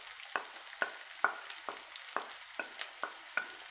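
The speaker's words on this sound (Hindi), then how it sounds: "मैं इसमें डाल दूँगी बारीक कटे हुए प्याज" Finely chopped onions hit a pan of already-browned ginger, giving a faint sizzle broken by regular spatula scrapes and taps roughly twice a second.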